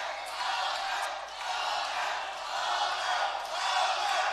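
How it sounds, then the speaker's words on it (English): A boxing crowd chants a fighter's name during the final round of a bout, rising and falling in waves of massed shouting that sound somewhat distant and fairly faint. "And you hear the crowd shouting, Viedas,"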